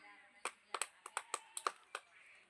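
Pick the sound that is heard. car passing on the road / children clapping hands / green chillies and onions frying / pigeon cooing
children clapping hands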